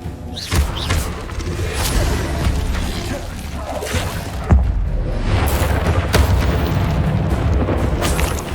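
Incendio and Levioso spell casts from the Hogwarts Legacy video game on PS5, heard as several sharp booms and thuds with shattering bursts, loud and close over a steady rumbling game backdrop.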